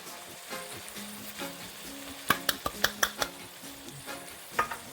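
Ackee and saltfish with shrimp, seasoned with black pepper, is gently folded in a pan: a soft sizzle underneath, with a quick run of bright utensil scrapes and clinks against the pan midway and another near the end.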